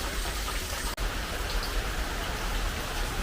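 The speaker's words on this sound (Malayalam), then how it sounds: "വൈകുന്നേരം ആയപ്പോൾ പിന്നെ മഴയോട് മഴയാ." Heavy evening rain pours steadily, a dense, even hiss of drops on surfaces, continuous and fairly close, with no voices.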